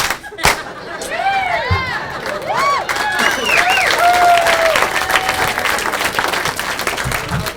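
A comedy club audience claps and cheers in a loud burst of applause, with crowd noise and some whoops rising over the clapping before it settles into steady applause.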